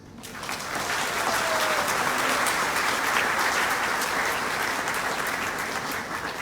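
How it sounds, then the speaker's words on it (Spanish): Applause for the women from a conference audience, a thick crowd clapping that swells up in the first second and then holds steady and full for the rest of the stretch. "Un aplauso para las mujeres."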